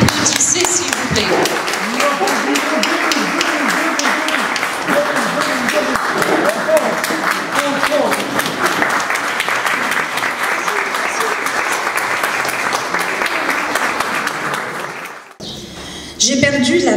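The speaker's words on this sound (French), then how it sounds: "Vous l'applaudissez s'il vous plaît." Sustained applause from an audience at a poetry event, steady clapping filling the room for about fifteen seconds, then it stops abruptly as a few voices carry on.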